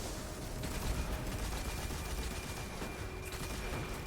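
Thunderlord machine gun in Destiny 2: Forsaken firing a steady, rapid stream of rounds, dense and continuous with mechanical clatter mixed in and no voices.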